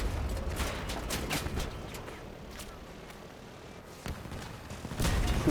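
Gunfire in the Crossout vehicle combat game, with bursts of shots and impacts at the start, a quieter stretch and a louder return near the end, mixed with engine rumble.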